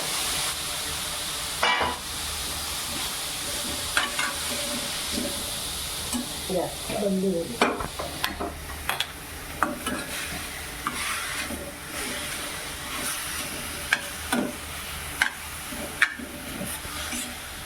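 Raw papaya halwa stirred and fried in ghee in a pan, giving a soft steady sizzle with scattered scraping stir strokes and occasional clinks, faint and close throughout.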